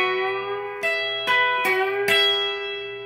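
An electric guitar plays a short phrase with a whole-step string bend, several picked notes ringing clearly over a sustained bent tone, played alone at moderate volume.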